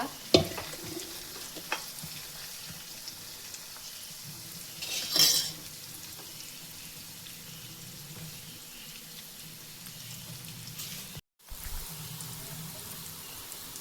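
Soya chunks frying with curry leaves in a pan, a faint steady sizzle with occasional stirring scrapes and a brief louder clatter, quiet and close with no voices.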